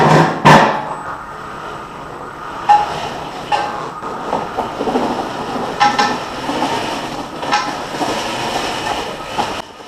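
An electric 4WD ATV backs up in reverse with a rattly, clattering drivetrain and a rising whine over a steady rumble, near and fairly loud, with no talking.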